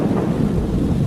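Heavy rain pours steadily, a dense roar with deep rumbling thunder rolling beneath it throughout, no voices.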